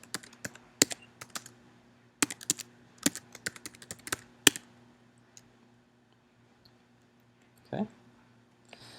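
Bursts of computer keyboard typing come in short clustered runs of clicks, fairly close and crisp, entering a name while setting up PHP code, then trail off into quieter gaps.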